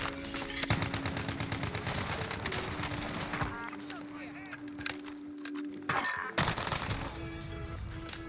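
Video game gunfire crackles in rapid, dense bursts, like fusillades and automatic fire, along with sharp impacts and metallic clinks throughout. The shooting is fairly loud and continuous, with brief lulls.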